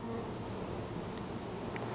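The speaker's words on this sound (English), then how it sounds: "shake the bees off over there, Tommy" Honey bees swarm around an open beehive during late-summer hive work, a soft, continuous buzzing hum that stays low and steady throughout.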